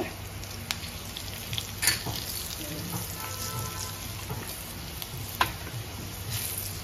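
Green chilli and turmeric sizzle in hot oil for a horsegram curry (kulith pithla): a soft, steady crackling hiss broken by a few sharp spatters and clicks. No voices.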